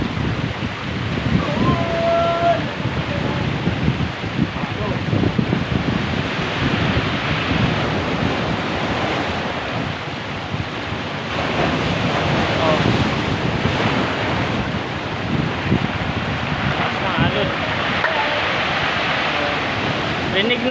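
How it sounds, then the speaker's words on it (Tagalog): Strong surf crashes onto a rocky beach with smooth stones at Kulasi Beach, Mauban, Quezon, a continuous loud roar of breaking waves mixed with heavy wind buffeting the microphone throughout. "Lakas ng along."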